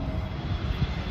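Fixed-wing airplane landing at an airport near a harbor in southern Spain, heard as a steady, fairly loud low engine roar throughout the short moment.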